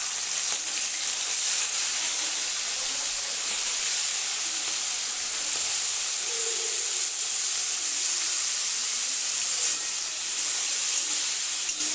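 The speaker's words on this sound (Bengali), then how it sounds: "মাছগুলোকে হালকা করে ভেজে নেব, খুব কড়া করে ভাজার দরকার নেই।" Small prawns frying lightly in hot oil, a loud, even, broad hiss of sizzling that holds steady throughout without talk.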